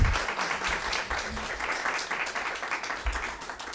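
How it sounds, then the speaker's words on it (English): An audience at a community candidates forum breaks into a sustained round of applause, dense steady clapping that fills the room from start to finish. "Can we get a round of applause for all of the candidates before we get started tonight?"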